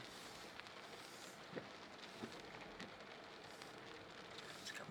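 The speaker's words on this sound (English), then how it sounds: "See all the rain." Heavy rain pours down steadily outdoors near a garage, a dense continuous hiss with occasional louder drops and patters, fairly close and with no voices.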